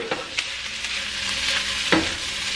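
Potatoes with rosemary and thyme fry and get stirred in a pan, a bright continuous sizzle with a few clicks and scrapes of the utensil, close and steady, with no talking.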